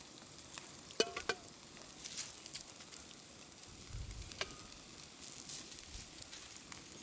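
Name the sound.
ghee poured onto grilling fish, sizzling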